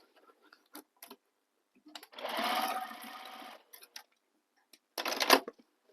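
Sewing machine stitching the seams of a bag, a close burst of fast whirring lasting about a second and a half, then a shorter burst later, with scattered clicks and handling taps in between.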